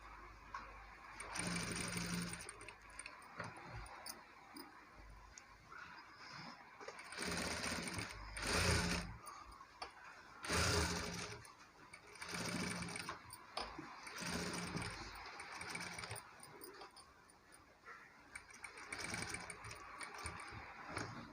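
A sewing machine stitching the neck lining of a designer blouse, running in several bursts of steady whirring separated by short pauses, close and fairly loud with no talking.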